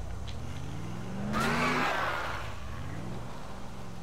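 A vehicle engine revs while running down a thug in Dead Island, a steady mid-pitched motor drone that swells briefly in a louder surge of roaring acceleration, then settles back to a continuous hum.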